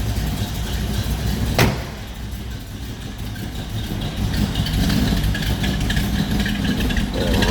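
A 1964 Chevrolet Bel Air's 350 V8 idles with a low, steady rumble heard from close behind the car, broken by one sharp click early on and a slight swell in the later seconds.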